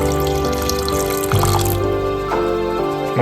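Water is poured into a mixer jar holding rava and curd, a steady splashing trickle with tonal gurgles as the level rises, close and clear, with no talking.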